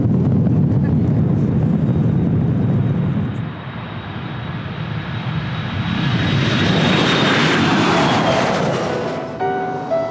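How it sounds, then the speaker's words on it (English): Engines of an EasyJet passenger airplane roar loudly from inside the cabin during takeoff, the thrust building and rising in pitch as the plane accelerates, with faint voices beneath. "bracing herself for her very first takeoff"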